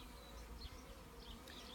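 Honey bees buzz softly and continuously as a package of them is installed in a hive, a faint close hum with no voices.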